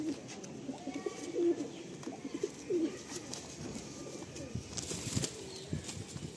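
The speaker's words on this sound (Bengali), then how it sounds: "পায়রাটা ধরতেই দিচ্ছে না।" A restless, short-sized female Madrasi pigeon struggles while being handled, its wings flapping in brief bursts amid soft cooing and faint background bird sounds, close and moderately loud.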